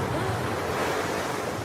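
Stormy sea surf and wind make a continuous, loud roar of crashing waves and blowing air, with no voices.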